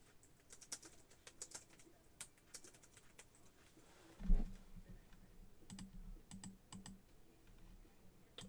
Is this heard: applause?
no